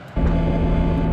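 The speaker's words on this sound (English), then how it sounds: "retracting of the gears is very loud" Landing gear retracting on a Saab Gripen jet in the X-Plane flight simulator, a sudden loud mechanical rumble with a steady low whine that kicks in and holds.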